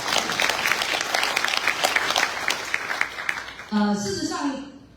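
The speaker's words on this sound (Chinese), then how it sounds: "再一次给他掌声" Audience applause fills an opening ceremony, a dense steady burst of many hands clapping that carries on loudly, then a voice comes in over it near the end as the clapping tapers off.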